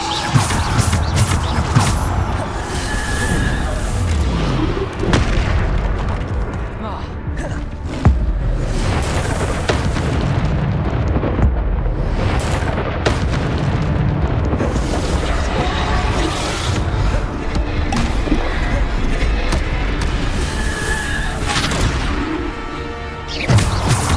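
Dense, loud magic-spell blasts and crashes from Bombarda and Depulso in Hogwarts Legacy, with booms, thuds and smashing debris layered continuously throughout.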